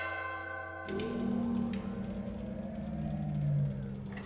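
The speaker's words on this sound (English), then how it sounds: "So the door opens if you ring the bell?" A bell rings in the video game Danganronpa Another Episode: Ultra Despair Girls, a sudden resonant strike with a sustained ringing tone over ambient game sound.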